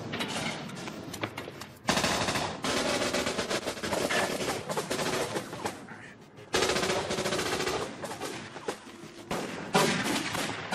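Heavy automatic gunfire in an action film shootout: dense, sustained machine-gun bursts that surge loudly twice, with booming reports and rattling volleys filling the scene.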